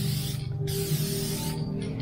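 Spray can applying adhesion promoter to plastic truck tail lights, two hissing bursts close by, the first short and the second about a second long, over a low background hum.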